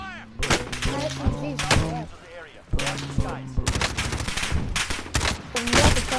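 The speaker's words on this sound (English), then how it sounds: "I'm taking fire!" Repeated bursts of automatic gunfire in the shooter game Warzone, loud and close, broken by short pauses, with a player talking excitedly between and over the shots.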